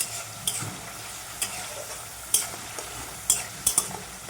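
Spice masala with ginger paste fries in a pan, a gentle continuous sizzle punctuated by several sharp spatula scrapes and clinks at irregular intervals, close and moderately loud.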